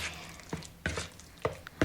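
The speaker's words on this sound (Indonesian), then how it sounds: "kita aduk dengan spatula ya" A spatula stirs egg into mpek-mpek tuna fish dough, giving soft, irregular knocks and scrapes a few times a second, close and fairly quiet.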